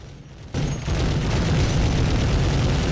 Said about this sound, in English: just like Doom, the gun sound effects are pretty good